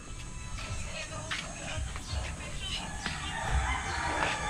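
Chickens around a rural home give occasional clucks and calls over a steady outdoor background, moderately near.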